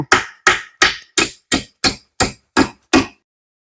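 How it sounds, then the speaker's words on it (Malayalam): Nine sharp, evenly spaced hammer blows drive nails into wooden planks, each strike loud and close with a short ring, in quick steady rhythm with no talk. "ഇവിടെ ആണി അടിക്കുക"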